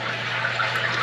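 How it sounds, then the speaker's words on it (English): Water pumped into a tank on a homestead after air was cleared from the lines, a steady close rushing fill with a low constant hum underneath. "So now we're filling the tank full of water"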